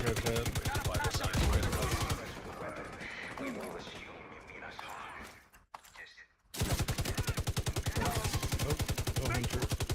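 Loud, rapid automatic gunfire in the shooter game The Division 2, a close, steady stream of shots that cuts out for a few seconds while a voice talks, then starts up again just as densely.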